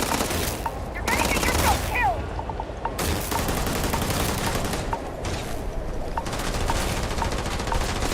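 Sustained sci-fi gunfire from a Starfield firefight, with dense overlapping automatic bursts and single shots rattling loudly and continuously throughout.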